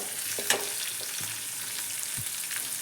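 Onion and green chili frying in a hot pan, a steady broadband sizzle throughout with a few soft stirring clicks and scrapes, close and alone without speech.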